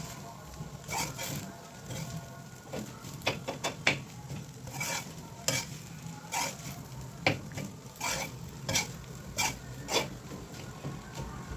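Curry fried rice with carrots and green peas is stirred in a pan, producing repeated scraping and rasping strokes of a utensil against the pan in an uneven rhythm, close and moderately loud, without speech.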